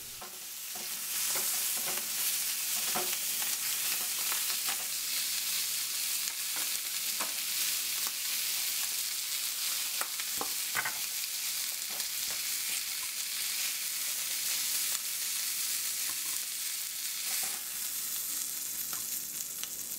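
Sausages sizzle steadily in a hot pan, a continuous bright frying hiss with scattered small pops and crackles throughout, close and even, with no talking.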